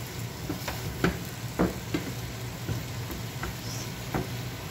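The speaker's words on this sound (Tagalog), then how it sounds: "Hanggang sa mag-golden brown lang yung ating chicken guys" Chicken pieces frying in a pan until golden brown, a soft continuous sizzle broken by several sharp clacks of a utensil stirring against the pan, close and fairly quiet.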